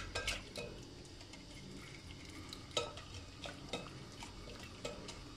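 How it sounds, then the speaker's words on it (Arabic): Yogurt marinade for chicken shawarma stirred with garlic powder, black pepper, chili and salt, giving soft scraping and occasional spoon clinks against the bowl, faint and steady with a few sharper taps. "نقلب كده عشان الزبادي ايه يختلط مع التوابل"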